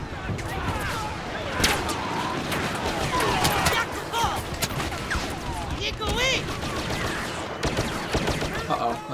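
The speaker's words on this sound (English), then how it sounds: "But he's trying to shoot me, but he's not doing a good job" Rapid blaster and gunfire bursts from the video game Star Wars Battlefront, loud and continuous with overlapping shots and explosions, while a player talks over the action.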